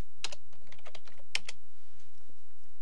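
Fingers type on a computer keyboard in a quick run of close, crisp key clicks, with a couple of louder taps standing out before the keystrokes thin out and stop.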